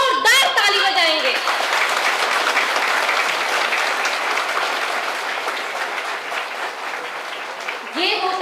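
Audience at an event by a Manav Shiksha Seva Sanstha drug de-addiction program applauds loudly and steadily, a dense crowd clapping that sustains for several seconds and tapers slightly near the end, with brief speech around it.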